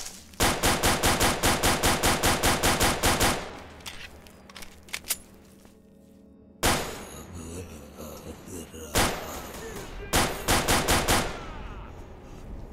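Automatic gunfire from S.T.A.L.K.E.R.: Shadow of Chernobyl comes loud and close in several rapid bursts, a long rattling volley followed by scattered shots, a pause, then two more short bursts.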